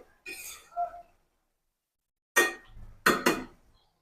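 A metal lid is set onto a cooking pot of spicy bottle gourd greens with dried puti fish, giving a few sharp clinks and clatters with silent gaps between, close and fairly quiet.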